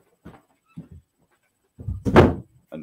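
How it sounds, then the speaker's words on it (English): A door is pushed shut with a single solid thump, preceded by a few faint knocks and shuffles of handling, heard nearby indoors with no talking. "Let me just close the door a minute."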